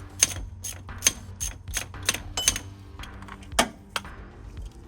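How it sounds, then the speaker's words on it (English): A ratchet turns the 14mm tensioner bolt under a car's lower timing cover, giving a rapid series of close, rhythmic clicks with a few heavier clacks. "it is as simple as taking the 14mm bolt from the tensioner,"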